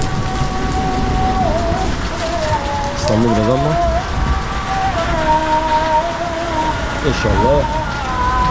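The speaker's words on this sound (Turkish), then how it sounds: "maşallah çok güzel bir yağmur yağıyor şu an" Steady rain falls in Istanbul, a dense, even patter that continues throughout while someone speaks over it.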